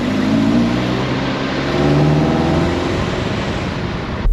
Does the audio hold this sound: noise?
yes